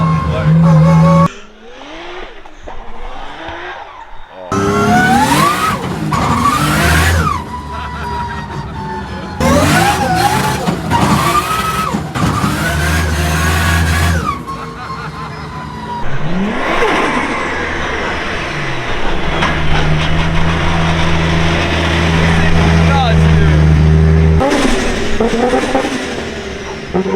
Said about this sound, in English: Crazy because this engine sounds so good